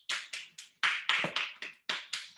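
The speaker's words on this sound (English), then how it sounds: "Oh, you got your own applause with you." A few hands clap over a virtual public hearing call, about ten sharp slaps in an uneven rhythm, thin and somewhat distant with no talking over them.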